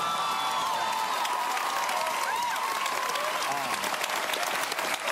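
Studio audience applause at a live TV music show taping, a dense steady wash of clapping with scattered cheers and whoops, loud and sustained throughout without any pause.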